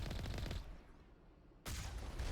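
Video game gunfire crackles in quick bursts, a dense volley at the start, a near-silent gap, then another burst of shots, all faint and distant-sounding with no talking.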